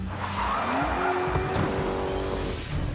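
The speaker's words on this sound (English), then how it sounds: "They all learn how to do a handbrake turn." A car doing a handbrake turn on a driving course, its tires squealing in a rising, sustained skid over loud engine noise for a couple of seconds; no voices.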